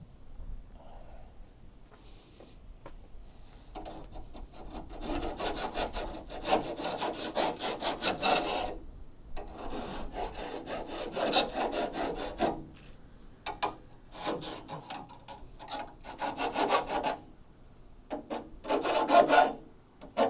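Metal files rasping against steel while a replacement leaf spring perch is shaped, irregular scraping strokes in bursts with brief pauses, close and fairly loud, no talking.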